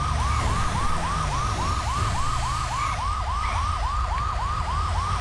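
A fire truck siren blares while driving in GTA V, a rapid repeating electronic yelp cycling about three times a second, loud and continuous over a low engine rumble.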